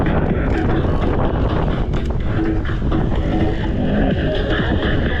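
Strong wind buffets the microphone outdoors on a Crimean coastal bike route, a constant loud roaring rumble throughout.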